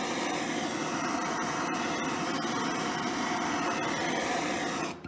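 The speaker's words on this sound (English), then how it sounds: "you just take a torch, go over it real quick," Steady roaring hiss of a torch flame heating old paint on the front end of a 1968 Mercury Cougar, continuous and fairly loud for about five seconds with slight crackling.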